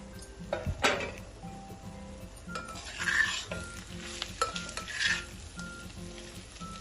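Siru kizhangu poriyal is stir-fried in a pan. A spatula scrapes in repeated, fairly regular strokes over a continuous frying sizzle, close up, with occasional louder clanks against the metal and no voices.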